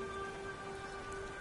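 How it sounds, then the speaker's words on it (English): Steady rain falls in a video game, a faint, even hiss of drops with a few sustained tonal hums running beneath, brief and continuous. "God damn rain."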